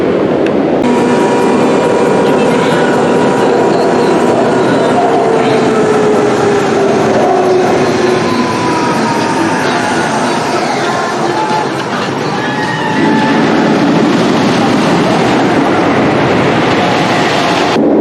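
The Great Bear roller coaster at Hersheypark thunders loudly along its track, a continuous heavy rumble and clatter with rising and falling whines throughout.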